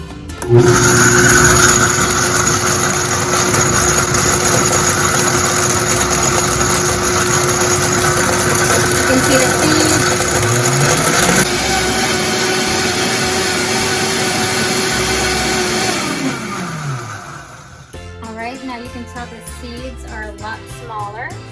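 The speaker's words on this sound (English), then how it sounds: "Here's my prickly pear in my blender." A blender roars continuously at high speed blending prickly pears with a little water for most of the stretch, its motor pitch dipping briefly once, then it shuts off and faint background sounds remain.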